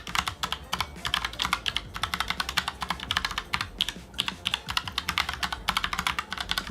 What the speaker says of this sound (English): we have this brown TTC switch, and you can hear the sound of pressing the keys